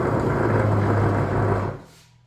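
A Katoku Typhoon water-cooled shears sharpening machine gives off a steady, fairly loud whirring hum from its bushing and pin, which runs evenly and then winds down and fades near the end.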